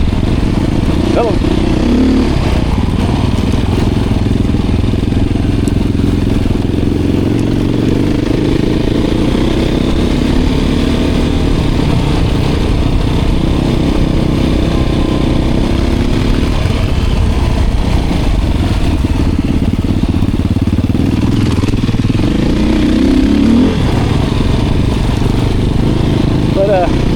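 Beta 500 RRS and Honda XR 650 dirt bike engines running in the Arkansas mountains in fall, a loud, continuous thumping engine drone throughout with rider voices over it.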